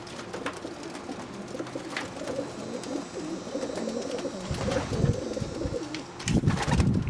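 Young racing homer pigeons coo together indoors in a loft, a steady layered murmur of soft throaty calls with louder bursts of cooing and wing shuffles near the end.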